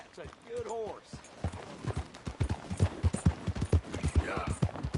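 Horse hooves in Red Dead Redemption 2 clip-clop in a steady, even rhythm, close by and moderately loud, while a voice speaks over the first part.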